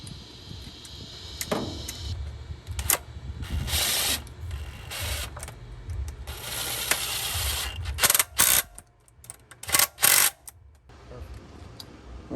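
Screws being fastened back into an engine bracket on a 2008–2013 Nissan Rogue during a valve cover replacement, heard as clicking ratchet strokes and metallic ticks in bursts, close up, with a few louder clanks near the end and no talk.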